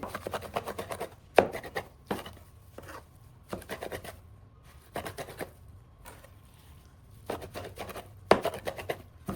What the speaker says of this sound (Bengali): একটা ভালো করে কিমা করে নিচ্ছি